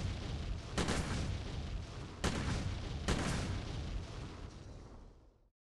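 A destroyed device blows up in a video game: a dense, sustained roar of rumbling blasts with three sharp bursts punching through, fading out near the end, no talk.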